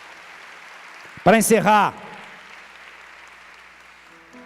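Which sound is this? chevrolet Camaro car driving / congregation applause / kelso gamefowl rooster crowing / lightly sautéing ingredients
congregation applause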